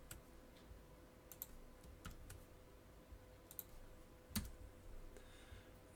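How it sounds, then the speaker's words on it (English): A run of light, close computer clicks while spreadsheet cells are selected one after another, irregularly spaced and quiet against a low steady hum. "I'm just going to do the point and click method and select each cell that we want to add"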